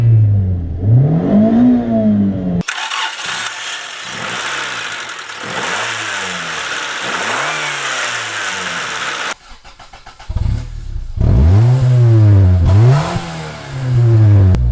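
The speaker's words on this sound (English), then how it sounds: "Let me start the car and quickly show you the engine bay, followed by some exhaust sound." A 1988 Honda Civic GL engine cranks and catches, then revs up and down repeatedly, the exhaust rising and falling in loud, throaty bursts before settling.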